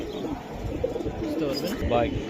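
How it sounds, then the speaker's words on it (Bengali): Silver Giribaz pigeons coo softly nearby in low, rolling calls, with a person talking over them. "দুইটা কবুতর অলরেডি শুরু করতেছে"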